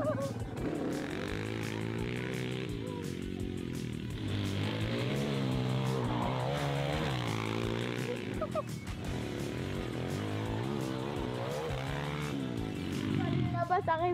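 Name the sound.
quad bike engine running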